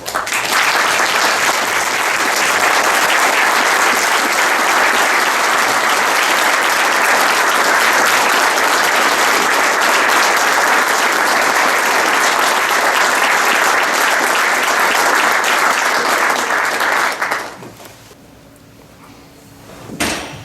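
Sustained, loud applause from an audience honoring World War II veterans at an Air Force base ceremony, steady clapping for about seventeen seconds before cutting off abruptly into near silence.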